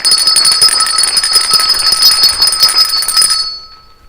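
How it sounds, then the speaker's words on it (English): Bells ring continuously on a radio show, a bright, dense jingling with steady high tones that cut off abruptly near the end, loud and with no talk over them. "Extra bells today."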